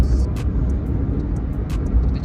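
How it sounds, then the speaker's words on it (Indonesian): Jet-like whine of the Wuling Air EV's electric motor while cruising on a toll road in eco mode, a steady rumble with a high tonal hum, heard from inside the car. "Jadi motor listriknya bunyinya lumayan menarik tuh."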